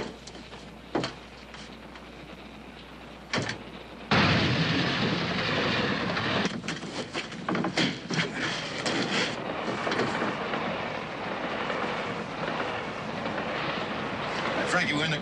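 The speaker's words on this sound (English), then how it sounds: "The train's heading into a 10-mile curve" A train rolls steadily along the tracks on a long curve, loud rattling and clacking filling the space after a few sharp knocks early on.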